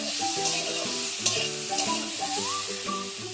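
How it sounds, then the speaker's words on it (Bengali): Vegetables sizzle with turmeric in a hot pan for a hog plum chutney, a steady hiss of frying running beneath louder background music throughout. "দেব সামান্য পরিমাণে হলুদ দিয়ে একটু ভালো করে ভেজে দিতে হবে।"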